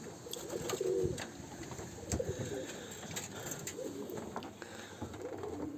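Pet pigeons coo softly at a distance in a loft, low repeated throaty calls over faint background rustle.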